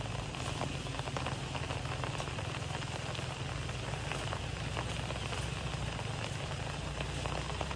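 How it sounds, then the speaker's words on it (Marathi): Steady monsoon rain pours continuously in a Konkan village, a dense, even hiss of drops on surfaces with no pauses. "पाऊस, बघा पाऊस"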